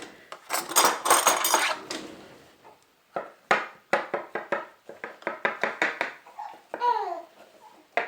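Clean knife and cutlery handled while making a scratch pie, quick metallic clinks and taps in uneven bursts, close by, mixed with a child's babble and light laughter.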